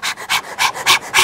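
A human voice imitates a big stray dog panting, giving five quick rhythmic breathy huffs up close with short gaps between them.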